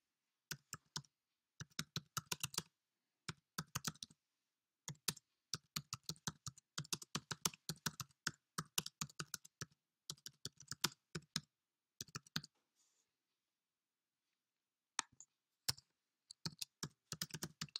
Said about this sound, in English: I need to type in the assignment title